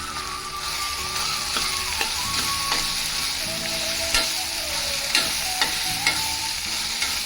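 Tempering (popu) for lentil rasam sizzles steadily in hot oil while being stirred, with scraping and tapping strokes of a spoon against the pan recurring throughout, close and continuous without any talk.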